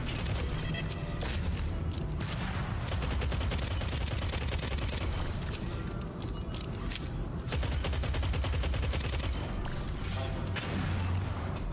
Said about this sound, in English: They fire explosive rounds as well.